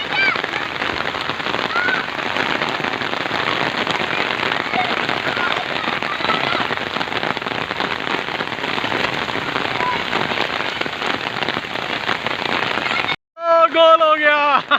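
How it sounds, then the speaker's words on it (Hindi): Heavy rain pouring after a long heatwave, a dense, loud and continuous wash that fills most of the clip before a voice briefly speaks near the end. "तलहा बच्चे माशाल्लाह से बहुत खुश हो रहे हैं जी बारिश में।"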